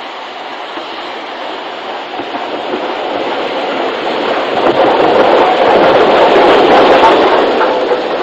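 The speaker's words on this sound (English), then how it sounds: "Here a 9F approaches from the north." A BR 9F steam locomotive on the Somerset & Dorset line near Horsington approaches as a broad, rushing rumble that swells steadily louder and nearer, with no voices over it.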